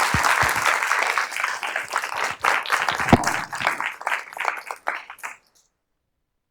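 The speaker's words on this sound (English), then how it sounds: "Please join me in a round of applause for Professor Wermiel." An audience at a law school event gives a round of applause for a professor, clapping loud and close at first, thinning into scattered claps before stopping abruptly into silence.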